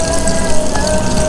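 Water splashes steadily into a cooking pot of simmering tomatoes at a rainy campsite, a continuous close, loud pouring wash with no talk.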